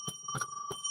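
A bell rings three times in quick succession as a celebratory sound effect on a comics podcast, clear bright strikes with short ringing tails, no talking.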